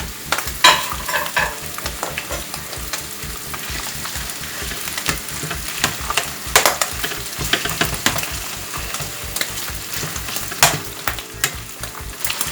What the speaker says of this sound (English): I'm gonna put the onions in here.